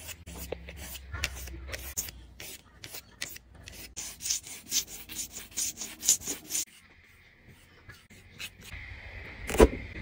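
A knife blade is sharpened into a larger bevel, with rapid rhythmic rasping strokes on an abrasive, close and fairly loud, then a quieter pause and a sharp scrape near the end.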